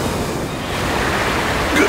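A sacred water spell surges in the Arc Rise Fantasia role-playing game, a dense, steady rushing wash like pouring surf that holds for nearly two seconds and swells slightly at the end.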